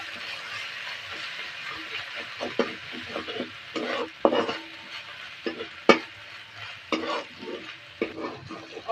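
Ground turmeric, chili and cumin masala is stirred and fried in a pan, with a soft sizzle under repeated scraping strokes of a spatula in an irregular rhythm, close up and without talk.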